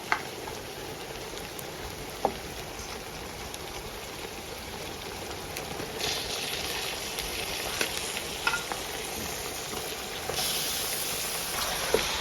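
Mutton pieces sizzling with onions in hot oil in a pan, a steady frying hiss with occasional crackles and light stirring sounds, close and even throughout with no one talking.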